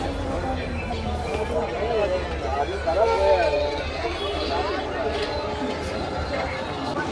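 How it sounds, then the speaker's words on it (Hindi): Dense crowd chatter fills a packed general-class coach on an Indian express train, many overlapping voices babbling steadily over the low rumble of the moving carriage. "फिलहाल भीड़ जरूर है जनरल कोच के अंदर"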